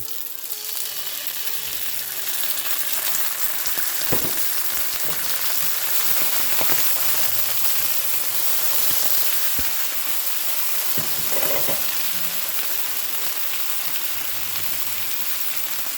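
Pears sear in a hot pan after apple cider vinegar goes in, giving a loud, continuous sizzle and frying hiss with a few sharp pops and stirs along the way.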